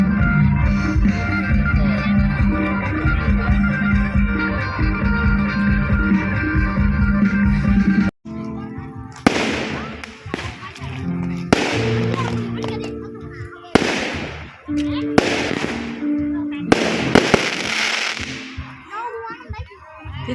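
Bamboo rockets launch at a Bun Bang Fai rocket festival in Laos, a long roaring, crackling blast that cuts off abruptly, followed by bursts of loud hissing whooshes and crackles amid crowd noise.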